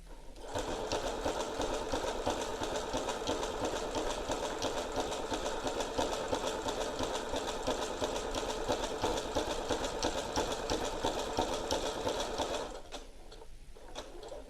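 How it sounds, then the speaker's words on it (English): A sewing machine runs steadily for about twelve seconds, top stitching around a welt pocket with a rapid, even mechanical chatter up close, then stops abruptly. "Turn with the needle down, lift the presser foot and stitch all the way around."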